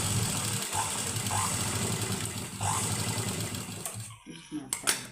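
A sewing machine runs steadily while stitching a round-neck blouse, its fast, even whir continuing for several seconds before stopping with a few clicks near the end.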